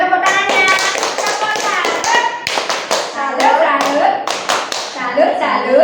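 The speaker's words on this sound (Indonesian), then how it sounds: "Boleh tepuk tangannya." Classroom audience clapping hands at a school teacher training session, brief bursts of claps mixed in with lively talk and children's voices close by.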